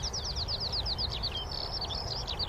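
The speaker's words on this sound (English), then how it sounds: "I know you like the birds" Birds chirp in quick repeated trills, a steady run of high, bright tweets over a low background rumble.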